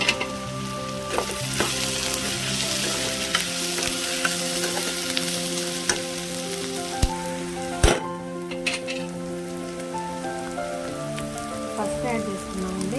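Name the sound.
tempering seeds and onions frying in oil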